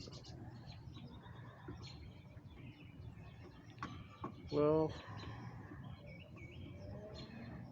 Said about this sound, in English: hanging out on the back deck, listening to the birds.